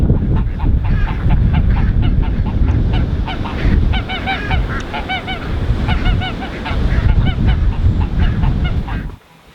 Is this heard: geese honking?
yes